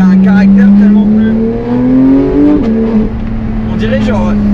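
A Porsche 911 GT3 of the 991.2 generation revs hard, its engine note climbing steadily in pitch, then dropping briefly and holding high, loud and close, with someone talking over it.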